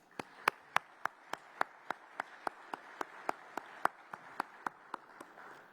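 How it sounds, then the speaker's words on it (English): Steady, evenly spaced claps ring out about four per second, crisp and fairly close, at Sun Belt Media Day 2023 in honor of football coaches and student athletes, with no talking over them. "Let's give a round of applause to all of our football coaches and student athletes."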